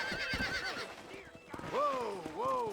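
Horses neigh and whinny several times alongside clip-clopping hooves in the Red Dead Redemption video game, with a voice talking over them.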